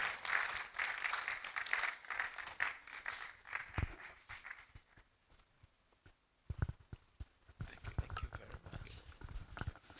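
Audience applause welcoming Professor Rexford Asasi Opong at an academic research conference, loud and dense at first, fading to scattered claps and a lull, then picking up again with a few sharp louder claps.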